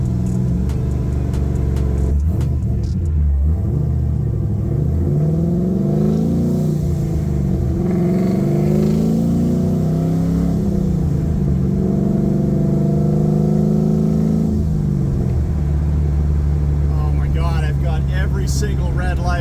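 A Pro Touring 1969 Chevrolet Camaro cruises down a road at night, its engine giving a steady low rumble with rising and falling revs, while a person talks over it at times.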